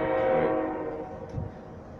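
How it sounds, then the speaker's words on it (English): A passing train sounds its horn, a loud sustained blast that fades over two seconds as the train rolls by, with a low rumble underneath and no talking. "But the train coming"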